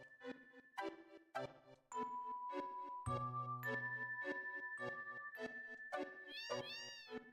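A cat in the Final Fantasy VII video game meows repeatedly in short, clear calls, with light game jingle and tinkling effects layered alongside.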